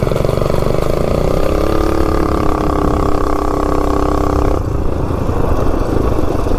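A big block minibike engine with performance parts, revving hard during a drag run, a loud, steady roar with rising pitch that climbs for several seconds before easing slightly near the end.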